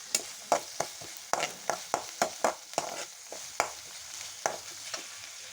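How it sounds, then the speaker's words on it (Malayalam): Turmeric and ground spices fry in oil for a jackfruit seed stir-fry, stirred with a series of sharp, regular scrapes and taps of a spoon against the pan over a soft sizzle. "നന്നായിട്ടൊന്ന് ഇളക്കി കൊടുക്കാം. പൊടിയുടെ പച്ചമണം ഒന്ന് മാറട്ടെ."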